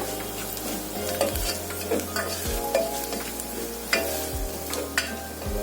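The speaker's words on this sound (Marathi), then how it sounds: "आता हे मसाले चांगले परतून घ्यायचे आहेत आपल्याला।" Ground spices, garam masala, turmeric and Malvani masala, sauté in a hot pan while being stirred, giving a steady sizzle broken by scraping spoon strokes and light clinks of metal against the pan.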